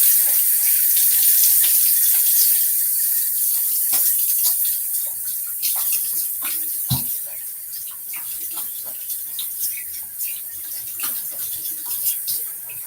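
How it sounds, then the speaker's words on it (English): A sink faucet runs steadily while shaving lather is rinsed off a face by hand, a close hissing stream broken by splashes and cupped-water slaps. "I was just rinsing that early lather off my face"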